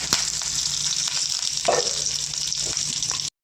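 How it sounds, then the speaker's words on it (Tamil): Sliced onion and curry leaves sizzle in hot oil for a Madurai-style chutney, a steady, close, hissing crackle with a few sharper pops, cutting off abruptly just before the end. "பொரியல் நறுக்கிற வெங்காயம் கொஞ்சம் கருவேப்பிலை கொடுக்குறேன்"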